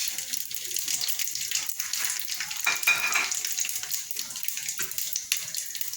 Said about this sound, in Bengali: শাহ জিরেটা যে একটুখানি ফেটে যাবে, একটু ক্র্যাকল করবে